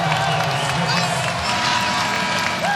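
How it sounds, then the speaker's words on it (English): Applause and cheering from a basketball arena crowd at the Watsco Center during a UNC Greensboro vs. Miami men's college game, a steady loud wash of clapping and crowd noise filling the whole stretch. "A big round of applause here inside the Watsco Center."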